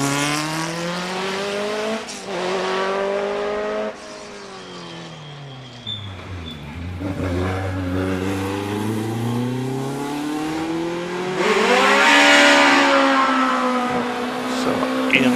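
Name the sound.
Lotus 23 sports racing car driving up Prescott hill climb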